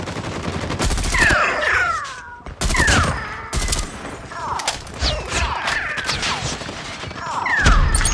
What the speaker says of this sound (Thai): นี่ครับเราก็ยิงไปแบบนี้ยิงไปเรื่อย